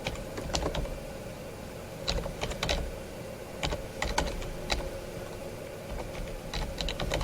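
Someone types on a computer keyboard in steady, irregular bursts of clicking keys over a low background hum, with brief pauses between runs of keystrokes.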